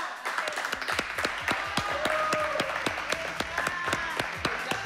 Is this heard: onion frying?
no